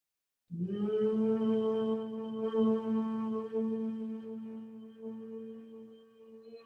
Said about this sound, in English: As you exhale, you close your lips and you hum.